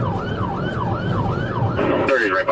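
An ambulance siren wails in steady rising-and-falling cycles during a police chase, loud and close over road and engine noise, with the pattern shifting near the end.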